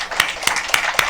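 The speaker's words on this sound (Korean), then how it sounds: "우리 주님께 영광의 박수 할렐루야" A church congregation clapping during a Sunday afternoon service, with four sharp, evenly spaced claps in a quick rhythm over a faint room background.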